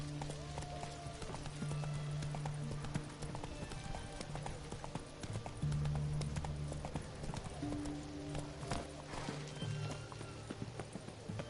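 Hooves of a horse clip-clop at a gallop in The Witcher 3, a rapid rhythmic pounding that runs throughout, close and moderately loud.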